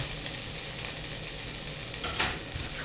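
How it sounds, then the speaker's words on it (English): Garlic sizzles steadily in a pan of melted butter and oil, a continuous close crackling hiss with a brief louder flare of spattering near the end, no voices. "I got half the garlic, putting it in there to flavor the oil a little bit"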